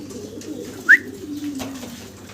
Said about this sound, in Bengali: সিঙ্গেল এক পিস কবুতর দেখাচ্ছি আপনাদেরকে, সাদা শর্ট ফেস, খুব মানে ছটফট করতেছে।